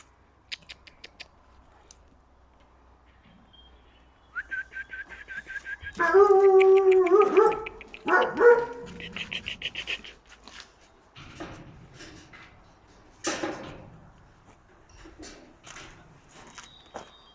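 Several high, whining yelps and whimpers from Kangal dogs at a breeding farm cluster in the middle, with soft shuffling and patter before and after. No one speaks.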